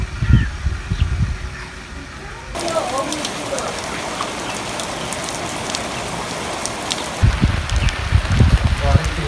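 Rain falls outdoors around an open-air cooking spot where achari pulao is being made, a steady loud hiss of drops on surfaces, with a voice talking at the start and end.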